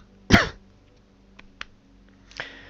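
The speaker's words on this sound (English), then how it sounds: "Sorry about this cough that's about to happen." A single sharp, close cough bursts out near the start, followed by a couple of small throat sounds and a softer breathy cough near the end, with near silence in between.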